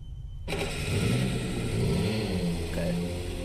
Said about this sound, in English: we'll hop on in the car